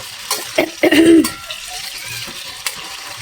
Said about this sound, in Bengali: আজকে অনেকদিন পরে স্টিলের কড়াইটাতে রান্না করছি।